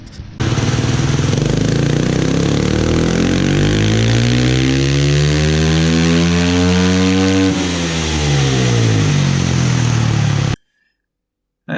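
A KTM EXC 350 dirt bike engine with a custom tune revs hard on a dyno, a loud continuous buzzing roar sweeping steadily up through the revs, peaking, then dropping away before cutting off abruptly.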